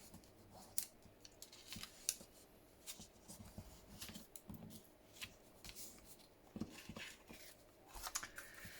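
Scissors snip through paper for a junk journal craft, with scattered crisp cuts and light rustling of paper, quiet and close.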